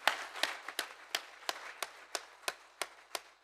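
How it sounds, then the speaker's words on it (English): At an awards ceremony held at Parliament, a single pair of hands claps in a slow, even rhythm of about ten distinct claps, fairly quiet and close, with no crowd joining in. "Round of applause for our bronze sponsors."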